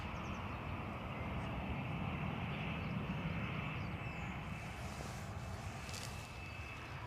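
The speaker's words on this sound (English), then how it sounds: "So that EasyJet is pretty much on us." An EasyJet airliner passing low overhead makes a broad, steady roar that swells and holds through the clip, loud and close, with faint chatter in the background.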